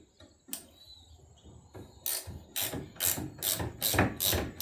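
A ratchet wrench loosens a 15mm bolt on a Polaris CV drive shaft, a quiet start giving way to several loud, close bursts of rapid clicking in quick succession.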